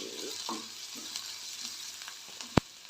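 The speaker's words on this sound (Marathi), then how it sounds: "यामध्ये मिरच्या टाकते जेणेकरून कांदा आणि मिरची दोन्हीही नीट" Onion and green chillies fry in a pan for upma, a quiet, steady sizzle with light stirring scrapes and one sharp clack near the end.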